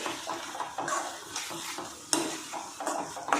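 Potato masala for dosa being stirred and fried in a pan, with repeated scraping strokes of a spoon against metal over a soft sizzle, close and fairly quiet.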